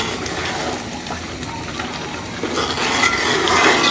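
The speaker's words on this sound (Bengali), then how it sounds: "আমি আরও খানিকক্ষণ ধরে কষে নিব।" Helencha greens being stir-fried in a pan, a steady loud sizzle with scraping and clatter of the spoon against the pan, growing slightly louder toward the end.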